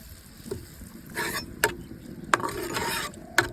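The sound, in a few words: stirring onion, garlic and ginger paste in a pan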